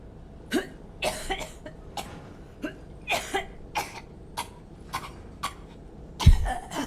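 Coughing from a character in Mass Effect 3, a long run of rough, hacking coughs in quick, uneven bursts, close and fairly soft, ending with one sharper, heavier cough.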